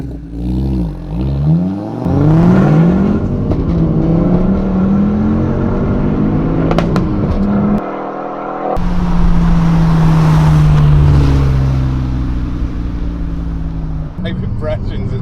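A Stage 3 tuned Ford Focus ST drives along a road, its engine revving and swelling loudly close by, then fading and rising again, with people talking alongside.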